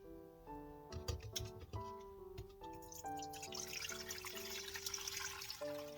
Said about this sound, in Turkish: Üçüncü gün son kez suyunu süzüyorum.